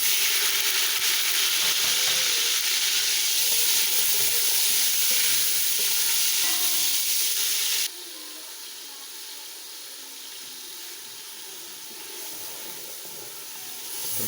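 Chopped tomatoes hit a pan of browned onions and sizzle loudly and continuously. The frying hiss grows quieter partway through and keeps going steadily.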